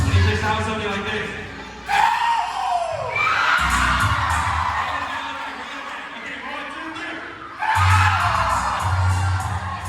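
A group performs a Samoan cheer together, loud bursts of shouting with heavy stomps or thumps, rising and dropping in waves of rhythmic chanting, with laughter between.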